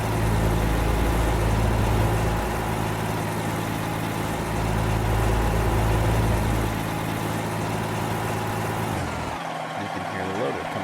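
A loud truck engine in American Truck Simulator drones and strains under load, holding a steady roar before dropping off abruptly near the end.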